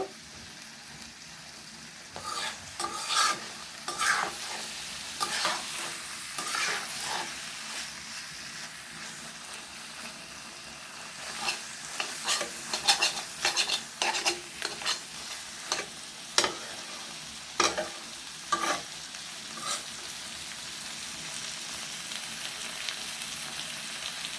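Beef tripe coated in ground spices frying over raised heat, loud bursts of sizzling and scraping from repeated stirring at an uneven rhythm, close by and without talk.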